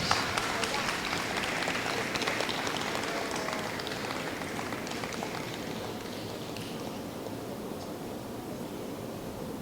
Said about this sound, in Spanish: Démosle un fuerte aplauso a nuestra Santísima Madre, amados hermanos.